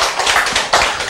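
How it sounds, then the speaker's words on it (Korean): An audience applauds at a healthy-eating diet lecture, a dense, continuous patter of many hands clapping that swells in a couple of brief surges, with no talking. "예, 예, 박수."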